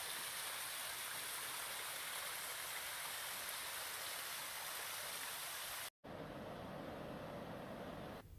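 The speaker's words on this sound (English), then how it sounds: "And now it's raining." Rain falls steadily with a cold wind on the Pacific Crest Trail between Stevens Pass and Stehekin, a dense, even hiss that holds throughout and is broken once by a moment of near silence before continuing slightly duller.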